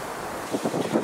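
Steady roaring wind buffets the microphone outdoors on a deer hunt, strong enough to blow over a decoy, with gusts swelling louder toward the end; no voices.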